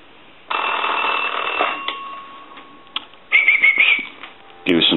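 A UK rotary desk telephone bell rings briefly and loudly, then clatters off as the handset is answered, followed by handling noise and a short burst of voice.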